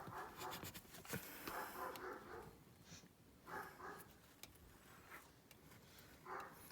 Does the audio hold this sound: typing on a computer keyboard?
no